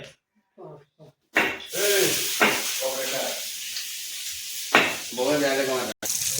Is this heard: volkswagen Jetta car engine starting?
no